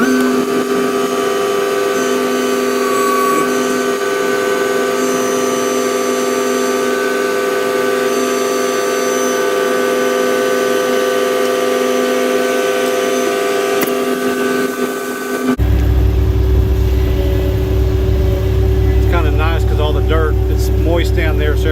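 A powered auger drills holes in moist ground for coastal shed piers, making a loud, steady engine drone that shifts in tone partway through, while people talk over it.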